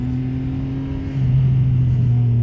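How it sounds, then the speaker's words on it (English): A CF Moto 675 motorcycle engine revs up during a quick rev match, holding a loud, steady mid-pitched drone that rises and swells about halfway through, with no talking. "Little rev match."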